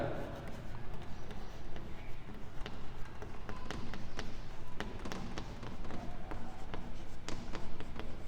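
Chalk or marker on a board while a teacher writes out the reactivity series of metals in a classroom, giving repeated sharp taps and scratchy strokes in an irregular rhythm, with voices talking over them.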